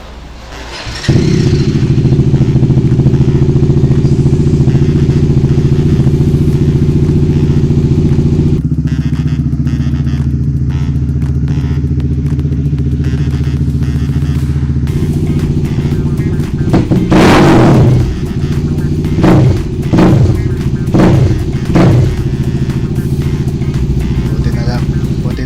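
A Bajaj Dominar 400 motorcycle engine fires up after a fuel filter and air filter change, then idles loud and steady with a few sharp throttle blips near the end.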